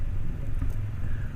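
A Can-Am F3 three-wheeler's 1330cc Rotax engine pulls under acceleration as a steady, loud low rumble with road and wind noise, no voices.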